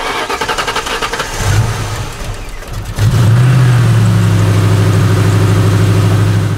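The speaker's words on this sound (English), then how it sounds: "we could start her up" A car engine is started after a performance intake manifold install and a coolant refill. It cranks briefly, stumbles, then catches and settles into a steady, loud idle nearby.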